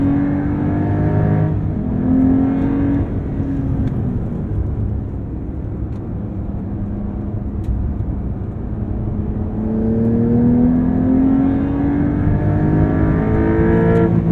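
A 2023 Porsche 911 T with a manual gearbox revs loudly through a downshift. The engine drone rises and falls in pitch continuously from up close, with no talking.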